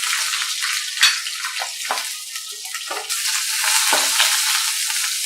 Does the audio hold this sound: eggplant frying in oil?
yes